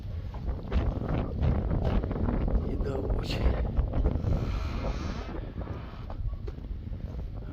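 Outdoor wind buffets the microphone in a low, steady rumble, with a person speaking briefly over it.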